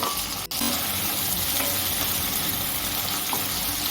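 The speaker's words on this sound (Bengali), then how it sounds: "টমেটোটা দিয়ে দু মিনিট নাড়াচাড়া করে" Finely chopped tomato is stirred into onions already fried light red, making a dense, steady sizzle with a brief dip near the start and soft scraping of a spoon throughout.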